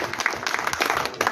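Audience at a district ceremony honouring former armed forces servicemen in Gangapur City breaks into a short, lively round of clapping.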